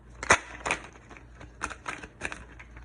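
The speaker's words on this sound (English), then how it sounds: "Let's get a good shuffle." Tarot cards are shuffled by hand close up, giving several crisp riffling bursts and soft papery slaps spaced irregularly, with quieter rustling between them and no speech.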